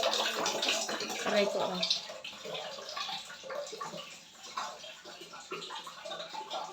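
Water pours from a tap into a bucket at home on a rainy day, a near splashing and trickling stream with drips, while someone speaks briefly over it.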